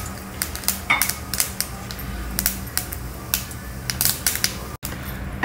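Mustard seeds spluttering and popping in hot oil in a pan, a string of sharp crackles and snaps at uneven intervals over a low background hiss, with no voices.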